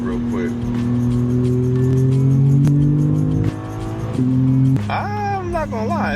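A 2026 BMW M2 engine revving and accelerating, a loud rising drone heard from inside the cabin, climbing in pitch with a brief shift dip, while a person talks over it.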